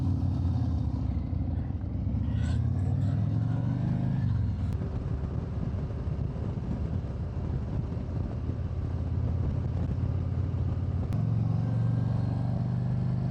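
Harley-Davidson motorcycle still in its break-in period cruising country roads in the Wisconsin hills, a steady loud engine rumble mixed with wind noise throughout, the pitch easing and shifting slightly as the rider changes speed.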